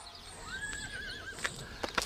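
A horse whinnies in one long, wavering call, followed by a couple of short sharp sounds near the end, fairly close with no talk over it.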